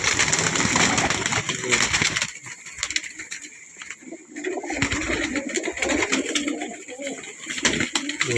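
Kalpotiya pigeons coo in a loft, with soft repeated throaty coos close by, mixed with faint rustling and background noise.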